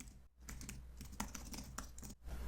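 Rapid typing on a computer keyboard while coding with Next.js, a quick string of close, crisp key clicks with brief pauses.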